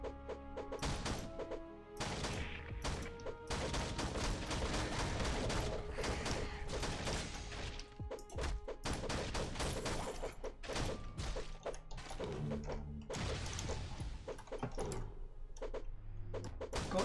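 Rapid gunfire from the shooter game SAS4 (SAS: Zombie Assault 4), a dense, continuous stream of loud shots and impacts with brief gaps, with no talk over it.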